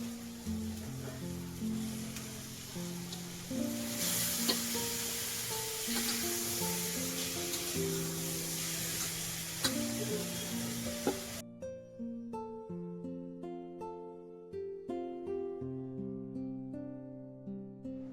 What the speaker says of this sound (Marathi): आता टाकूया आपण कोळंबी